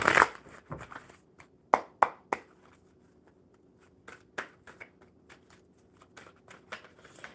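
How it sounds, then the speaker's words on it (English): Cards riffle and slap in several crisp bursts, louder at first, then softer shuffling rustles continue steadily; close by, with no talking. "One more good shuffle, Hope."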